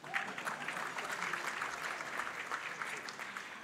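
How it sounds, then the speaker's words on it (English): Audience applause for event sponsors at a city address, a steady, fairly distant patter of many hands clapping throughout, moderately quiet and even without any talk over it. "Okay, applaud for them."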